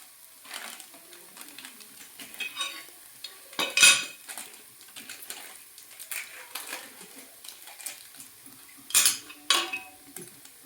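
Mutton is stirred with homemade black masala in a metal pot, bursts of scraping and clanking from the spoon over a faint sizzle, with a couple of louder strokes standing out.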